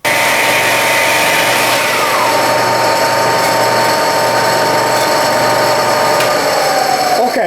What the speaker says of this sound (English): let's see how long it takes to stop with me pushing the brake as hard as I